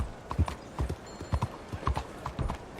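Horse hooves clip-clop in the video game Red Dead Redemption 2: a steady, close trotting rhythm of sharp, repeated hoof strikes runs throughout.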